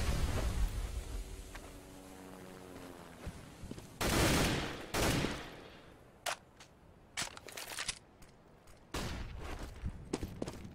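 Grenade barrage and gunfire in a Counter-Strike grand final match: a couple of heavy blasts, then a scatter of sharp rifle shots and crackling bursts over a low rumble, with quieter stretches between.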